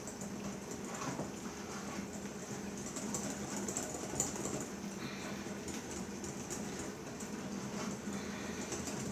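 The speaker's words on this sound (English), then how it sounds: "Mix it up good. You need to use the whisk." A whisk beats a milky blintz batter in a bowl, making a continuous, fairly quiet wet whirring and rattling that runs steadily through the whole stretch with no talking.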